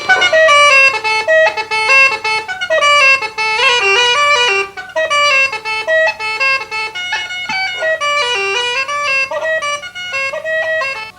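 Bellows-blown bagpipes playing a quick staccato melody, short detached notes following one another in a steady, busy rhythm, loud and close with no voices.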